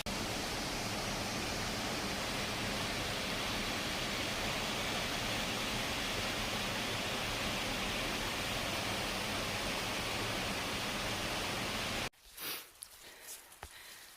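Michigan waterfall in autumn, a dense, steady rushing roar that fills the sound for about twelve seconds before cutting off abruptly to quieter rustling.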